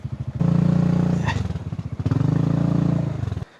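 A motorcycle engine putters up and idles at a parking area near a hot spring in Calauan, Laguna, its close rhythmic chugging rising with short revs before cutting off abruptly.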